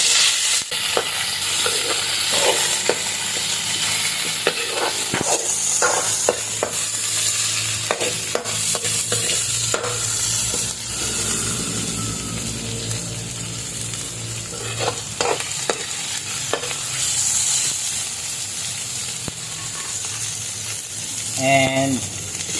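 Sliced onion sautés with ground beef in a pan, a steady sizzle broken by scraping stirs, with occasional talk over it.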